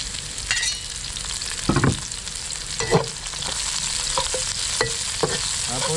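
Onions sautéing in a pan for Chinese-style steamed tilapia, a steady close sizzle broken by several scraping clacks of a utensil stirring against the pan, with no talking.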